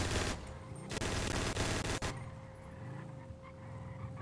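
Bursts of automatic gunfire from a GTA V roleplay shootout, loud and dense for about two seconds with brief breaks, then dropping to quieter ambient game sound.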